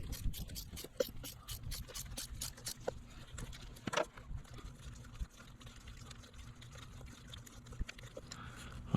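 Ratchet with a flexible extension and spark plug socket loosens a spark plug on a Ford Escape 1.6, giving a steady series of faint, rapid clicks at close range over low mechanical rumble, with no speech.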